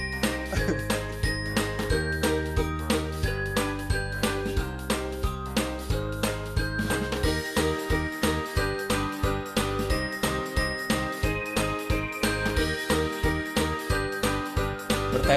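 A phone ringtone plays a bright, repeating electronic jingle of chiming notes over a steady beat. It sounds loud and close and continues throughout without pause, with no one talking over it.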